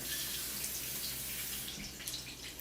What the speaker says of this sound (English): Reduce heat, add half a cup of water.